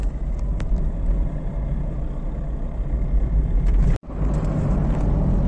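A VW Up TSI fitted with a hybrid turbo accelerates in second gear, its engine droning in a steady, close rumble that cuts out for a moment before picking back up.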